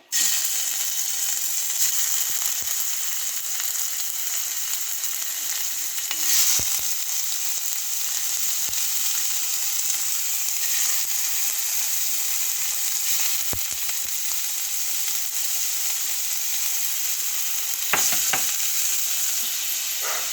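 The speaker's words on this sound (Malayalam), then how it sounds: "ഇനി നമ്മൾ ചിക്കൻ ഇട്ട് കൊടുക്കാൻ പോവുകയാണ് ഓരോന്നായിട്ട്" Chicken pieces sizzle steadily in hot oil in a pan, a loud, continuous close-up fry with a few small clinks and stirs, no talking.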